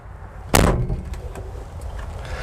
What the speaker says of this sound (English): I'll go ahead and close the door